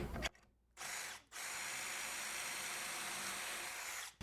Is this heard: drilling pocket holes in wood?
yes